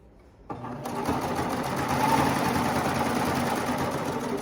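A serger stitching leggings starts up after a short pause and then runs at a steady, loud whirring drone with rapid mechanical chatter, close and continuous with no talking.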